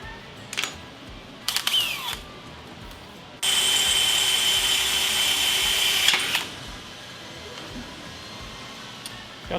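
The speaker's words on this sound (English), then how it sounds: "Got the dullest drill bit." A power drill bores with a dull bit on an industrial machine build, one sustained grinding burst of about three seconds after brief earlier clicks and handling, loud and close with no talk.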